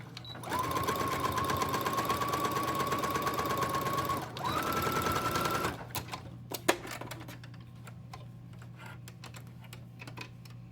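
A sewing machine stitches fabric, running in two steady, close whirring bursts with a brief pause between them. It then stops, leaving a few small clicks and handling noises.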